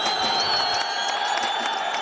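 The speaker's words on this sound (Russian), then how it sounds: "Овации получает Азамат Гафуров от таджикской аудитории" Audience ovation at an MMA fight before a Tajik crowd: a dense, sustained roar of cheering and applause with whoops, loud and filling throughout.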